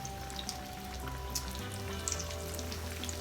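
Cube steak fries in a pan with steady sizzling and popping, close and continuous, with a faint low hum beneath.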